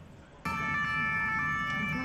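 Emergency sirens wail loudly through Paris streets during the Notre Dame Cathedral fire, starting abruptly and holding a steady piercing tone over a low city rumble.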